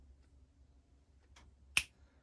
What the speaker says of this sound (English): By the time I snap my fingers, this thing should be ready to go.